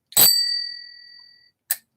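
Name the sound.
notification bell sound effect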